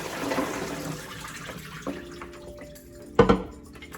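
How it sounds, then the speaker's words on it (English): Water draining from canned garbanzo beans in a colander, a brief splashing pour fading into drips and a trickle, ending with a sharp clatter. "First thing we're going to do is drain the beans here."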